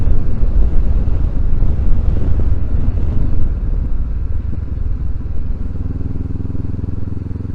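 Low exhaust burble of a 2023 Honda CB500X motorcycle riding on greasy roads, heavily masked by wind rush, easing slightly toward the end.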